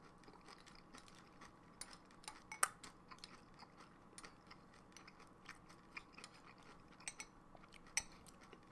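Soft close-up crunching from chewing Morning Summit cereal, irregular small crackles and clicks over several seconds with a few sharper crunches, no talking.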